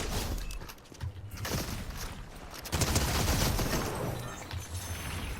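Fortnite video game gunfire, dense rapid bursts of shots that run almost continuously and grow louder midway, with other busy game sounds mixed in.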